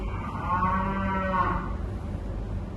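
A single long cow moo rises and fades over about a second, near and clear against quiet background noise, during hand milking.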